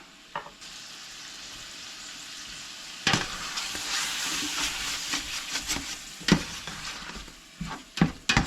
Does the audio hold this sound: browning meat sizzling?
yes